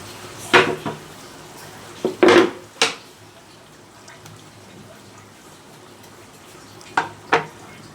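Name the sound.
hilsa fish frying in oil with masala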